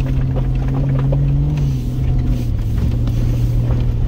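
A 1996 Jeep Cherokee XJ in two-wheel drive pushes through a foot of deep snow, its engine a steady, loud, low drone with a sustained hum that shifts pitch slightly, close up, with no talk.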